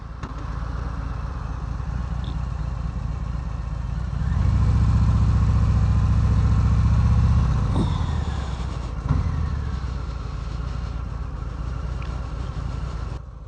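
A Harley-Davidson FXDR motorcycle engine idles steadily up close, its low rumble swelling louder for a few seconds in the middle before settling back to a steady idle.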